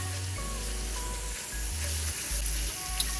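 Yellow and red bell peppers fry in olive oil in a pan for collard greens with ham hocks, giving a steady close sizzle with a low intermittent hum running beneath it.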